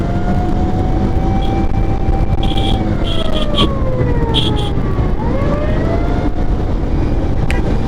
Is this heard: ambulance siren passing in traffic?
yes